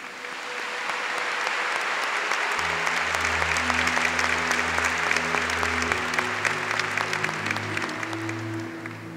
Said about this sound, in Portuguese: eu acho que esse aplauso foi muito fraco para Nossa Senhora